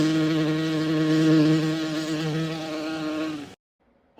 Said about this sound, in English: Hornet.